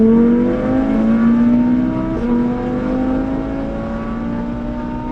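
An 800hp Audi RS3 running over 40 psi of boost accelerates hard with rolling anti-lag, a loud close engine note climbing steadily in pitch with a sharp jolt partway through as the revs surge.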